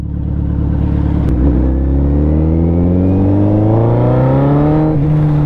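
A loud Suzuki Hayabusa sport motorcycle exhaust revs up steadily, its pitch climbing smoothly as it accelerates close by, with a sharp click partway through.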